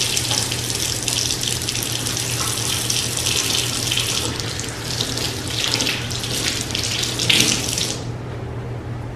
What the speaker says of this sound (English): Let me wash my hands, get these ones done, and then load up the next batch.